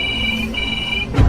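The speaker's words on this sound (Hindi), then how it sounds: "मानस डरते हुए उठा और कांपते हाथों से रिसीवर उठाकर बोला, हेलो" A telephone rings briefly in a horror audio story, a steady high electronic tone with a short gap, followed by a low thud at the end.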